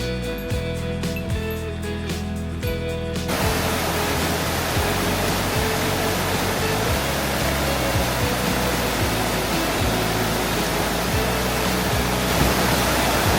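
A clear mountain stream in Kamikochi's early-summer wetland forest rushes steadily in a loud, dense, unbroken roar, heard close with no voices.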